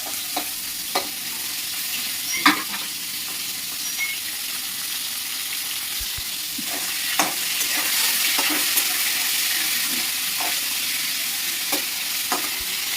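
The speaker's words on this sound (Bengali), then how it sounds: "তো চলো মাছটা মা ততক্ষণ ভেজে নিই" Fish frying in hot oil in a wok gives a continuous close sizzle that swells slightly later, punctuated by scattered sharp clicks and scrapes of a spatula turning the fish.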